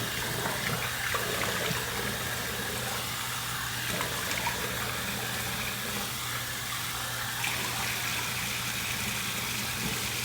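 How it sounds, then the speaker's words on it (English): Water runs steadily from a tap while someone rinses off after a wet shave, a constant hissing stream with no pauses, close and even throughout. "Let me rinse off here"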